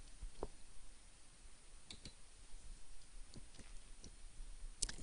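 A computer mouse gives a few sparse, faint clicks at irregular intervals over quiet room hiss while saving a download for Scratch programming software.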